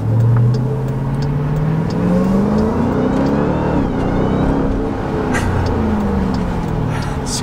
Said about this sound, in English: Supercharger whines.